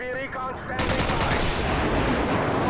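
Loud, dense bursts of automatic gunfire from a Call of Duty 4 multiplayer match, with rapid cracking shots starting after a brief quieter moment and continuing nonstop to the end.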